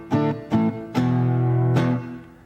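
An electric guitar with distortion hits power chords: three short chopped stabs followed by a longer sustained chord that rings out and fades, loud and close, with no voices.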